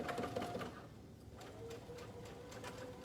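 A sewing machine runs a twin needle stitch along green stretch leggings, a steady close mechanical whir with a fast regular pulse that continues without pause.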